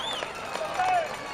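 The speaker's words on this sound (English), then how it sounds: "Listen to this crowd." A crowd at a 1998 high school football game between Buena Vista and William Penn cheers steadily after a touchdown, a broad sustained roar with scattered whistles and shouts, heard alongside speech.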